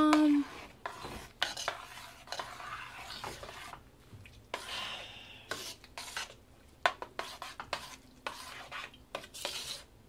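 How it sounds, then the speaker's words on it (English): Re-batched chocolate mocha soap shavings being stirred and scraped in a bowl, a close, soft rasping and rubbing with intermittent taps and clinks of the utensil against the container. "now I'm just gonna like mix this in a little bit"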